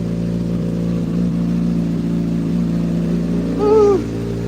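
A motorcycle engine idles steadily while warming up, a low continuous rumble, with a short rising rev near the end before settling back.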